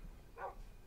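A single short, faint bark from a dog in Minecraft sounds once in an otherwise quiet moment.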